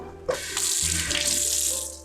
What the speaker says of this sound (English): now I'm going to give these a nice rinse in hot water.